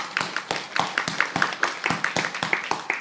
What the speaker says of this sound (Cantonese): 俾掌聲耶穌好唔好啊？